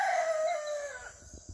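A rooster crows at dawn at a rural house in Rio Novo, one long drawn-out call that trails off and fades, fairly close and clear, followed by faint low rustling.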